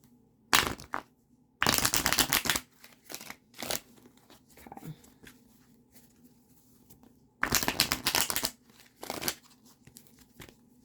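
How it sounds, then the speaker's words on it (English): Decks of cards are riffled and shuffled close by in several bursts of rapid flapping and crisp crackles, separated by quieter pauses with small handling clicks. "Let me shuffle up these decks for 1 second."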